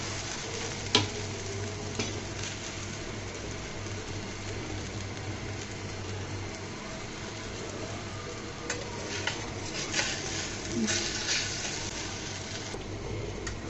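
A potato-stuffed flour snack sizzles softly in a pan, with a low steady frying hiss and a few scraping clicks as it is flipped, quiet and close with no talk.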